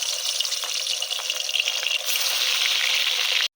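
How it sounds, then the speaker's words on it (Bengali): Khoira fish sizzle and hiss in hot mustard oil, a steady close frying crackle that grows louder partway through before stopping suddenly. "তেল গরম হয়ে গেছে, মাছ ভেজে নেব।"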